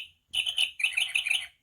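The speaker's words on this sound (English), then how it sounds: "the little bird was back chirping" A small bird gives two quick bursts of bright, high chirping, close and clear, with a short gap between them and near silence around them.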